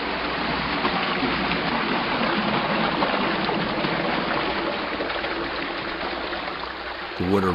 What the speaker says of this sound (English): When the gates are open, the water pours in.